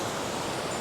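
Ocean surf on the Oregon coast rolls in as a steady, broad wash of noise, loud and constant, with no voices over it.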